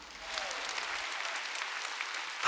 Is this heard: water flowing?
no